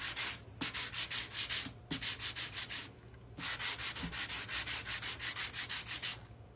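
A gourd being hand-sanded in quick rhythmic bursts, loud and close, with short pauses between runs of steady rasping strokes and no talking.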